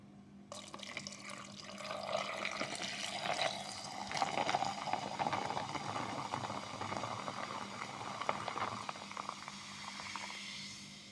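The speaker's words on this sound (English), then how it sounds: "the gas sound from the water" A soft, continuous fizzing hiss of bubbling carbonated water for homemade Sprite runs steadily throughout, fairly faint and close by.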